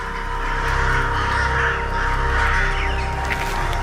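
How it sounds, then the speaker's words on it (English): Several crows caw loudly and repeatedly in a wild outdoor setting, harsh overlapping calls over a steady low background with no speech. "These crows are not about to stay and pick a fight."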